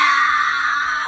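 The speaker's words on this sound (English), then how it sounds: "Can I whistle scream?" A person attempts a whistle scream vocal technique, a brief high, strained, breathy squeal held steadily for about a second, close and alone.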